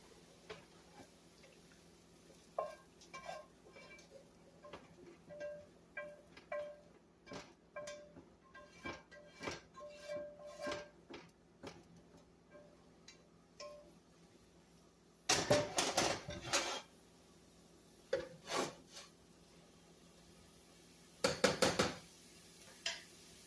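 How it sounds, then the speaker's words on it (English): Cooked hamburger with onions, peppers and seasoning is scraped from a skillet into a pan: irregular close taps and knocks of a utensil against metal, with denser bursts of scraping and clattering later on. "I'm going to take the stuff in my skillet, my hamburger and my onions and peppers and seasoning, and I'm going to transfer them to my pan."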